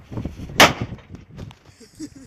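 A single sharp firecracker bang goes off outdoors before New Year's Eve. It is a sudden crack in the middle of quiet voices and shuffling sounds.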